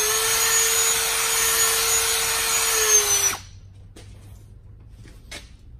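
A power drill whirs steadily at close range for about three seconds, drilling out a broken metal fuel line, then cuts out, leaving a few faint clicks and handling noises.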